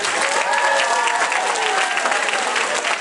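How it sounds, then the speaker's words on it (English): An audience at a talent show applauds the competitors with dense, steady clapping from a crowd, loud and continuous for about three seconds, alone without talk. "Let's have another round of applause for the competitors."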